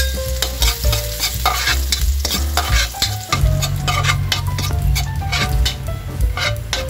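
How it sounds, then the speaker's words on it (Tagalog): Garlic sizzles in hot cooking oil in a frying pan for pork buto-buto kinamatisan, a steady loud crackle broken by repeated scraping stirs, with no talking. "Mainit na guys yung ating mantika, kaya ilalagay na natin yung ating bawang."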